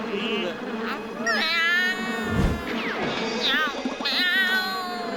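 A cartoon cat gives several drawn-out, wavering meows, loud and close, mixed with animated character voices talking over and between them.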